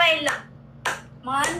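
A few sharp hand claps ring out in quick bursts, close and fairly loud, mixed with a voice talking between them.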